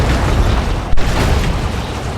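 Heavy artillery blasts from D-cannons in a Dawn of War 2 battle, a dense, roaring burst of explosive noise with a sharp crack in the middle, loud and continuous over the short moment.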